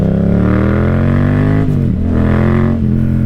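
Yamaha MT-07 motorcycle engine pulling hard in third gear, a loud close revving drone that rises in pitch, dips at a shift, then climbs again.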